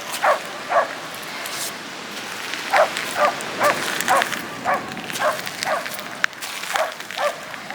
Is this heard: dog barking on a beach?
yes